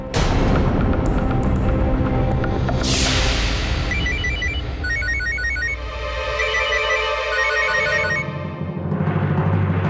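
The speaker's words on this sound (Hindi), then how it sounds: "घर से फोन है।" A telephone rings in a repeated electronic trill pattern inside a home, layered over a loud dramatic music score with booming hits, no speech.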